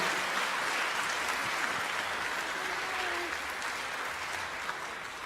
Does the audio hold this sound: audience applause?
yes